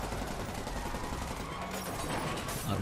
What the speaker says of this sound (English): Why do they drive straight towards that gunfire?